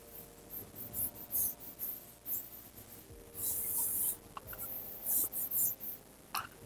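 A capacitance formula is written on a board in quick, close strokes, with scratchy squeaks and short bursts separated by brief pauses.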